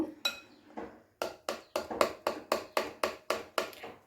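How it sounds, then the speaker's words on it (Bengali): A spoon stirs biscuit cake batter in a bowl, striking the bowl in a run of about ten sharp, rhythmic clinks, evenly paced and close by. "এবারে একটি চামচ দিয়ে ভালো করে মিশ্রণটি সবগুলো ভালো করে গুলে নেব।"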